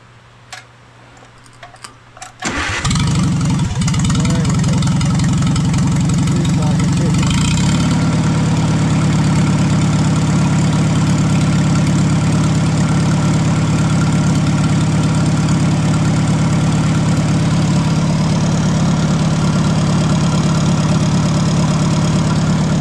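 An old Super A tractor engine starts up and settles into a loud, steady idle, a continuous low rumble with rhythmic ticking that runs on uninterrupted.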